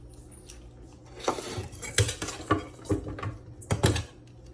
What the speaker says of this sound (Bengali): এই মূলাটা রেখেই কিন্তু আমি এটাকে হালকা করে ছিলে নিচ্ছি